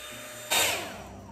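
Dyson Airwrap hair styler blowing air while curling hair, a steady whir that suddenly rises into a louder breathy rush midway, close and alone.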